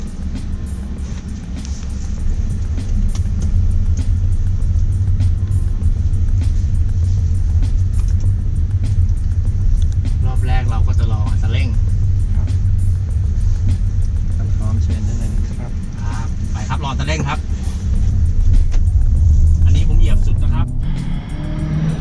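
An MG HS PHEV plug-in hybrid SUV on a test drive gives a steady low road and engine rumble from inside the cabin that swells briefly near the end, with someone talking over it.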